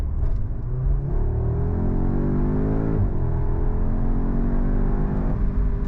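Synthesized car engine sound, a steady loud drone with harmonic tones that rise and fall as if revving, continuous throughout with no talk.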